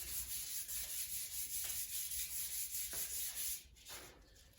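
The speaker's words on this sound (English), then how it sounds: "we're going to basically rub the sandpaper all the way up and down our arms" Sandpaper rubbed up and down the limbs of a heat-formed PVC plastic bow, a steady close scratchy rasp with repeated strokes that eases off near the end.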